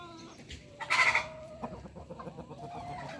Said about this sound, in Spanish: Ahí tienen los dos gallos ahora sí, del gallinero.